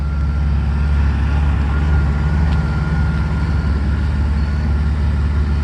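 A 1993 Mercedes 600SEC V12 idles through a cheap generic temporary muffler, a steady, loud low-frequency rumble with an even drone and no speech throughout.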